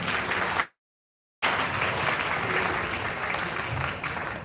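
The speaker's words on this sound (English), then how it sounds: "can we give a round of applause?" An audience gives a round of applause at a live event, a dense sustained clapping that fills the space, cut by a short silent gap before continuing steadily.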